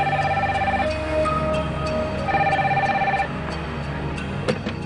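A telephone rings in repeated electronic bursts, each trill followed by a short pause, loud and close against a quiet indoor background with a faint clatter near the end.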